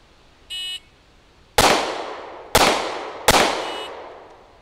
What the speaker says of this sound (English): here's three shots with the M&P from that distance of 12 yards using a flash sight picture